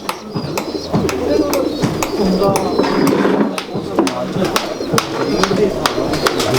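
Champion pigeons coo in low, throaty murmurs amid sharp clicks and fluttering clatter, with muffled voices in the background.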